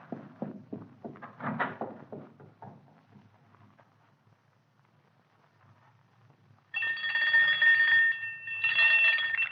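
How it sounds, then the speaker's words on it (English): An electric doorbell in an old-time radio drama rings in two sustained, buzzing bursts, loud and close, after a stretch of muffled voices and quiet. "Ring the doorbell. I'll hear it. Ring it loud."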